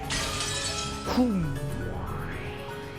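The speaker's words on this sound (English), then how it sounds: "the whole world shattered as though it were made out of thin glass" Glass shattering effect from the visual novel game Umineko: When They Cry, a bright crash about a second in with a falling, ringing sweep, set over continuous background music.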